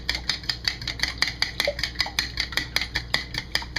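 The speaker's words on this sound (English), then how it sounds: "So I'm just going to give that a mix." Two eggs and a tablespoon of vanilla are whisked in a bowl, giving quick, regular clinks of a whisk against the sides, close and clear, with no talking.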